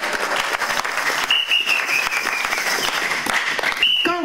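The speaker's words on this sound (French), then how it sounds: "On acclame notre Dieu." Church congregation clapping loudly and continuously in a dense burst of applause, with a short whistle cutting through at moments.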